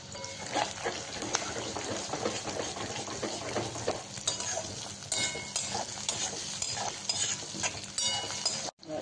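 Steady sizzle of onion and garlic frying in a pan with scraping stirring and utensil clatter throughout, close and fairly loud, no talking.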